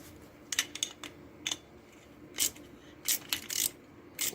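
A Jofemar water heater boiler that had frozen and thawed is being opened for repair, giving a series of sharp metallic clicks and clatters in irregular bursts, close by and with no talking.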